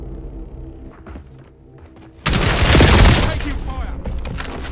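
Video game gunfire erupts suddenly after a quieter stretch, a loud, dense volley of shots and booming impacts that keeps rumbling to the end, with a voice speaking.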